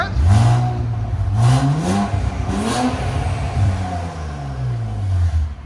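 An Infiniti Q60 with a 3.0L twin-turbo V6 and aftermarket exhaust, valves closed, revs repeatedly nearby, each blip rising in pitch and falling back to a burbling idle, loud and alone.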